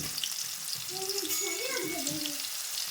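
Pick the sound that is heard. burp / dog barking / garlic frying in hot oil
garlic frying in hot oil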